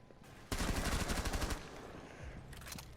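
Rainbow Six Siege gunfire rattles out as a rapid automatic burst of about a second, loud and close, then trails into quieter game noise before a few more scattered shots near the end.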